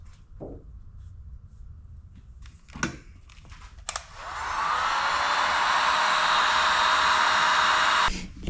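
A heat gun shrinks heat-shrink tubing over vehicle wiring, a steady loud blowing hiss that starts after a few faint clicks and handling noises and runs alone for about four seconds before cutting off.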